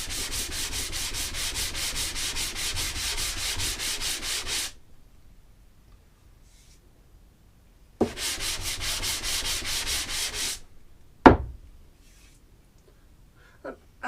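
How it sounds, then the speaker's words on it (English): An old wooden block plane sole rubbed back and forth on 240 grit paper laid over flat MDF, giving two long bursts of steady rasping strokes separated by silence, with a sharp knock near the end. "I'm going to do that on a bit of 240 grit that we've applied here onto a nice flat piece of MDF."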